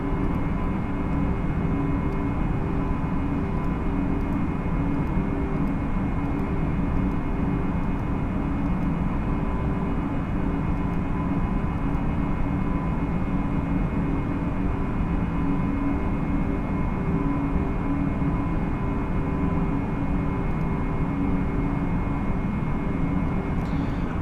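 A Cessna 172 engine in a flight simulator game drones as a steady, unbroken hum at a constant pitch for the whole stretch, moderately loud with no talk.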